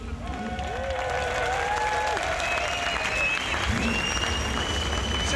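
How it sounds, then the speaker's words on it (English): Ford fans in the grandstand cheer and applaud during a 1999 V8 Supercars race at Barbagallo Raceway, a sustained distant crowd roar with whistles rising above it, under a commentator's voice. "Sounds like there's a few Ford fans up there, Jason, cheering you on."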